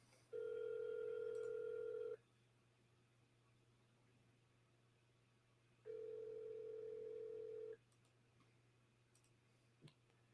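An outgoing telephone call rings on the line with two long, steady electronic tones separated by a few seconds of quiet, then a faint click near the end, all heard faintly over a low hum.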